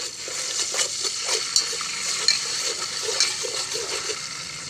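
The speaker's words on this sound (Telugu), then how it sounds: "అల్లం వెల్లుల్లి పేస్ట్ వేయించుకొని కొంచెంసేపు ఫ్రై చేసుకోవాలి" Ginger garlic paste frying in hot oil after cinnamon, a steady crackling sizzle with scattered pops and soft stirring scrapes, close and continuous with no talking.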